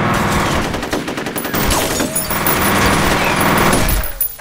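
Sustained automatic gunfire from the F.E.A.R. video game, a dense rapid fusillade of loud overlapping shots running steadily throughout with no pauses and no talk.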